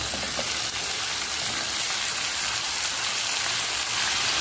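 Frozen tomatoes frying in a pan for a chicken curry, a dense continuous hiss and sizzle like steady rain, loud and unbroken throughout with no talking.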